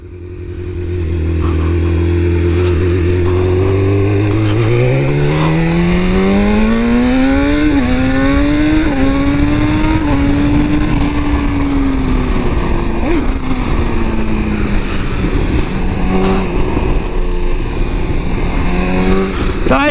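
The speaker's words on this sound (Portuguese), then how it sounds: "Test Ride BMW S1000R! Motão, motão!" A BMW S1000R fitted with an Atalla header and Akrapovic exhaust is ridden, its engine note rising steadily through the revs and shifting in pitch, loud and continuous at close range with wind noise over the whole stretch.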